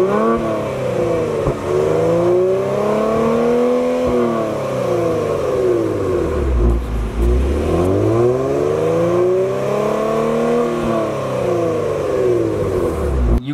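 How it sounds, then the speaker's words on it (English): A 2020 Kia Stinger GT Limited with its V6 exhaust revving up and down in repeated sweeping swells, loud and close, with a throaty, rising and falling engine tone. "The actual exhaust, I don't find it very loud."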